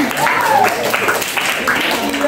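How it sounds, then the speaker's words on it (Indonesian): Audience applause after a horror storytelling session, brief scattered clapping under a lively voice that keeps talking over it. "Ya, tepuk tangan"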